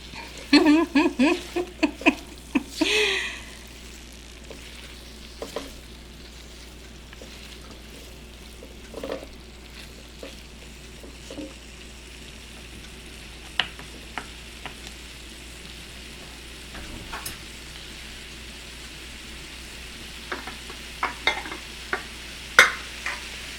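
Cabbage stir-frying in a pan, a soft steady sizzle broken by scattered scrapes and clinks of stirring, a busier flurry at the start and more scraping near the end.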